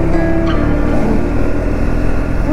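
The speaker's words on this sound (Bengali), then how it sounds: "দেখো হুইলি কেমন মারছে" A motorcycle pulls a wheelie on a Sunday group ride in Jharkhand, its engine droning loud and steady throughout, thick with wind rush.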